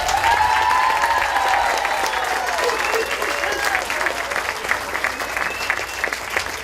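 Sustained applause from a room full of people during an award presentation at a city State of the City event, loud and steady throughout with some voices mixed in.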